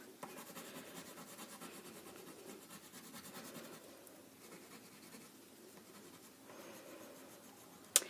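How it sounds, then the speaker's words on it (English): A marker colours in a hillside on a small piece of paper, giving a quiet continuous scratchy rubbing with short rhythmic strokes, a few pauses and a sharp tap at the end. "So I'm going to color in my hillside."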